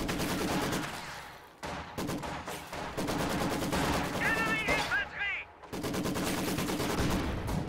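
Gunfire in a World War II video game battle, with rapid machine-gun bursts and repeated rifle shots rattling loudly and nearly continuously, pausing briefly a few times.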